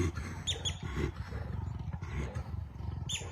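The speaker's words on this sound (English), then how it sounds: "Two leopards got into a heated fight this afternoon, taking things from tense to full-on brawl." Two leopards fight, trading deep, rasping roars and growls in repeated harsh bursts, close and fairly loud against a continuous rumbling background.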